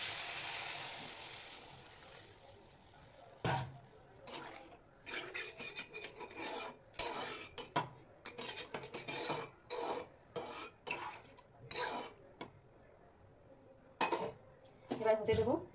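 Water poured into a pan of frying vegetables, starting with a hissing sizzle, followed by repeated scraping and stirring with a utensil against the pan, close and moderately quiet.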